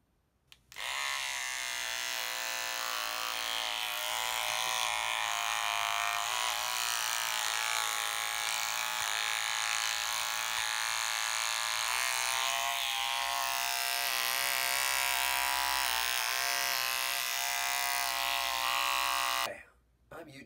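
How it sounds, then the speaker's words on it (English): Electric shaver buzzes steadily for about twenty seconds while shaving knuckles, a loud continuous motorised drone with no breaks, starting and stopping abruptly. "When I shave my knuckles, I use the Shave Your Knuckles for Justice 3000."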